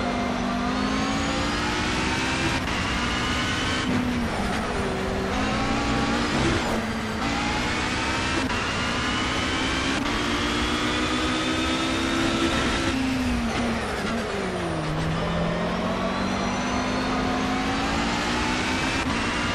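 A Ginetta GT3 race car engine in Project CARS drones loud and continuous, its pitch rising and falling through gear changes and revs over a sustained run, with no talk.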